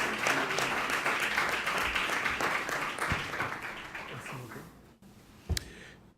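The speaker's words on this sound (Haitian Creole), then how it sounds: "Sous vos applaudissements, professeur Colson d'Haïti." A seated audience gives a sustained round of clapping in a hall to welcome a speaker, dense and steady at first, then thinning out and ending with a few last claps.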